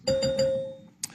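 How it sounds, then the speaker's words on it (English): A debate timing bell warning candidates their time is up rings with three quick struck chimes that sustain a clear tone and fade, followed by a brief soft noise at the end. "a bell will sound like this"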